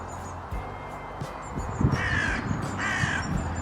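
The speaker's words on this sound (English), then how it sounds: "Not the crows." Crows caw outdoors at a house-sitting home that keeps chickens. A few harsh calls ring out, some overlapping, above steady background noise.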